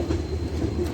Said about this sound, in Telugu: 1490 కిలోమీటర్స్ డిస్టెన్స్ కంప్లీట్ చేసి ఈ ట్రైన్ చేరుకుంది కొల్లం జంక్షన్